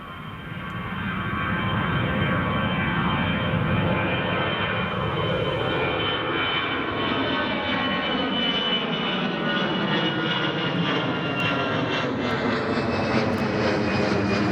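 An Iberia Airbus A321 jet airliner takes off at Newcastle International Airport, a loud, steady engine roar that swells within the first seconds and holds, with a slowly falling tone as the aircraft climbs away.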